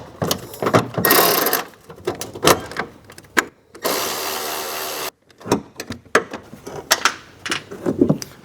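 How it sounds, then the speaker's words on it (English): An automatic power ratchet spins out 7mm grille bolts on a 2022 Chevrolet Silverado 1500, giving loud close whirring bursts, one long steady run, amid clicks and handling clatter. "The best method to do it is either with a wobble socket or with an automatic ratchet like this."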